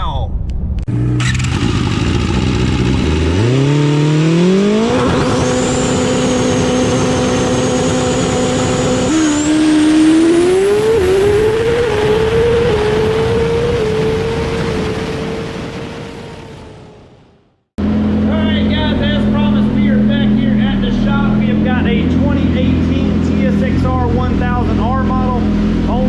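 A 2018 Suzuki GSX-R 1000 R fitted with a Brock's carbon exhaust and an ECU flash tune revs loud and close, its pitch climbing in steps, then cuts out abruptly before a steady, lower engine drone resumes.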